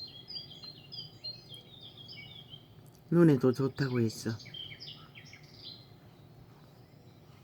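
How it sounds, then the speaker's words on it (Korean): Forest birdsong played from a tablet: faint, repeated high chirps and tweets run through the scene, alone at first and later under a brief stretch of speech. "항상 저렇게 숲속의 새소리를 물소리를"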